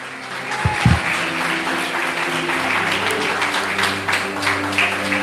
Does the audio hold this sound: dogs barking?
no